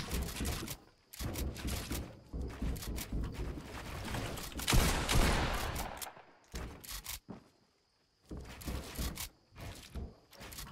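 Rapid bursts of video game gunfire in a 1v1 shootout, loud dense volleys across most of the moment with brief pauses, then a short quiet gap before more shots resume.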